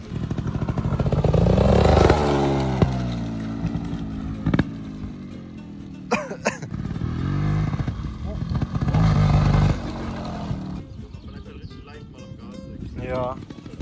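A motorcycle engine revs and surges up as the rider attempts a wheelie, loud and close, with rattling clatter and excited voices talking over it.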